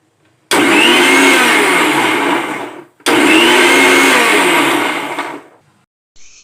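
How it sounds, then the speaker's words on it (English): Mango and milk being blended for a thick milkshake, an electric blender roaring loudly in two bursts of about two and a half seconds each with a short pause between them, each burst slowly easing off at the end. "Now I am going to blend it."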